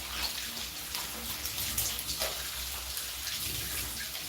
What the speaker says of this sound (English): So I'm washing up my green onions.